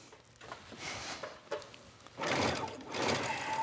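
Home sewing machine stitching a quarter-inch seam joining binding fabric to garment fabric, a close mechanical whir in short starts and stops that swells into a steadier run toward the end.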